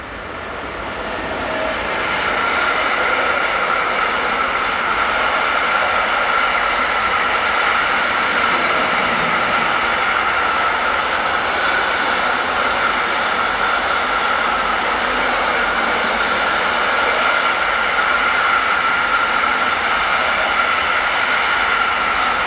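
Locomotive 187310 hauls a southbound container train past on the busy Fulda to Bad Hersfeld mainline in Germany, a steady loud rumble and wheel roar that builds quickly and holds without a break.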